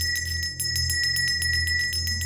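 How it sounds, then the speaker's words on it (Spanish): A bell rings in a steady, repeated pattern of bright, clear strikes, loud and close, with the tone lingering between strokes. "escuché nuevamente otra vez ese ruido de la campana siendo repicada"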